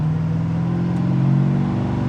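A 1971 Plymouth Duster engine with a radical cam idles with a lumpy, uneven thumping rumble, loud and close, steady for a couple of seconds.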